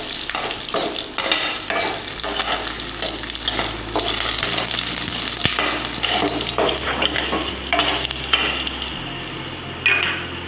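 Dried red chillies and mustard seeds frying in coconut oil while making a corn-flour upma, with steady close sizzling, crackling pops and occasional stirring clinks, no talk.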